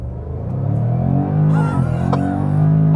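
Jaguar F-Pace 5.0 V8 engine held at steady revs around 2000 rpm before launch, a loud, close, continuous low rumble with slight rising pitch changes and no talk.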